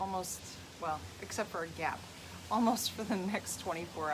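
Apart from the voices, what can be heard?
No everyday noises stand out.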